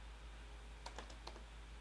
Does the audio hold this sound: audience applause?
no